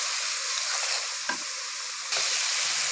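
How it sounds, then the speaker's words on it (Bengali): Steady close sizzle of vegetable masala sautéing in a pan while salt is stirred in, with a single soft scrape of the spoon midway and the frying growing a little brighter toward the end. "লবণটা ভালো মতো মিশিয়ে নিব।"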